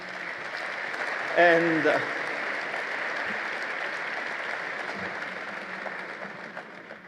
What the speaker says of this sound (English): Another applause, I would say, just for the party.